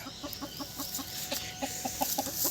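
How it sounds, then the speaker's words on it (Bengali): Native farm chickens, ten hens and three roosters, cluck in short repeated bursts at close range, one call following another in an uneven rhythm with faint background noise and no talk. "আমার দেশি মুরগিগুলো এখানে রয়েছে তো এখানে দশটা মুরগি এবং তিনটে মোরগ রয়েছে"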